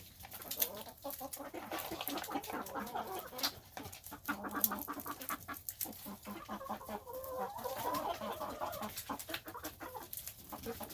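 Rhode Island Red chickens cluck and murmur close by in a steady, busy chorus of short repeated calls that continues throughout, with no talking.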